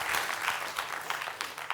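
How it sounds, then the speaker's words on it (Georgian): Studio audience at a televised comedy contest show applauding, a dense, steady patter of many hands clapping at moderate volume for under two seconds, with no one speaking over it. "აპლოდისმენტები"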